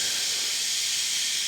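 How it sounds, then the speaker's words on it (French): Steam hisses loudly and continuously from a professional steam iron station as it is opened with water inside, a steady broadband rush with no voices. "Là, il y a de l'eau à l'intérieur, donc il y a un dégagement important de vapeur"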